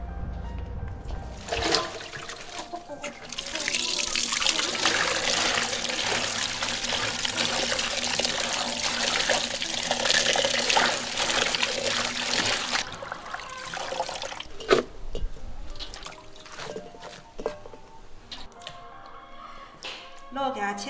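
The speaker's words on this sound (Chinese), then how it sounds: "包菜折好了，然后现在去清洗干净。" Cabbage is washed under steady running water, a loud continuous rush that stops sharply partway through and is followed by splashes and drips, while people talk.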